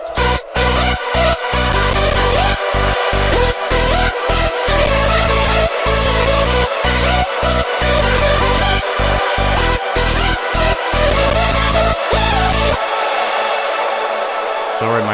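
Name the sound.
hardstyle lead and chords played together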